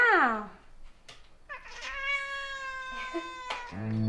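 A pet cat meows several times indoors, drawn-out rising and falling cries close by, with a person speaking softly between the calls.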